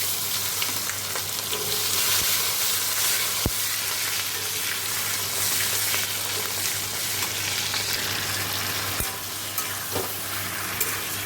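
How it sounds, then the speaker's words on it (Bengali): Radhuni seeds are tempered in hot oil while a tangra fish curry is cooked, giving a loud, continuous sizzle and crackle with a couple of sharp utensil clicks. "রাঁধুনি ফোড়ন দিয়ে দেবো"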